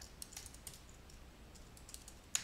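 Keys tapped on a computer keyboard while a title is entered: light, irregular clicks, fairly quiet and close, with one sharper keystroke near the end.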